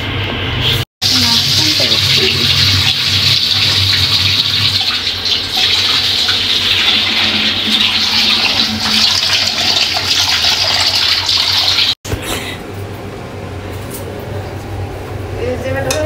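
Tap water runs steadily into a sink as raw meat is washed in a home kitchen, a loud continuous hiss broken by two brief cut-offs, with a voice talking over it.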